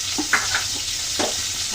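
Small puti fish fry in oil in a pan, giving a steady sizzle broken by a few soft clicks and scrapes as the pieces are stirred.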